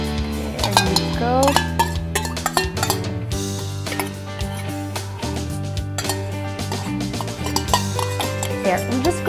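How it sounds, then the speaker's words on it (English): A wire whisk stirs sugar and all-purpose cream in a bowl, giving rapid metallic clinks and scraping against the dish over a music bed, close and continuous. "We'll just continuously stir till the sugar is already diluted or is already dissolved."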